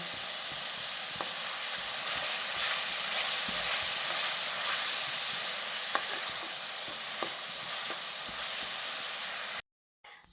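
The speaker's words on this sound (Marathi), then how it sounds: "कढईमध्ये तेल टाकून जिरी मोहरी आणि लसूण आणि आलं फोडणी देऊन चांगलं आता कांदा आणि टोमॅटो टाकले भाजायला" Onions and tomatoes frying in oil in a wok after a tempering of cumin, mustard seed, garlic and ginger for pav bhaji, a loud continuous sizzle with occasional stirring clicks, ending abruptly.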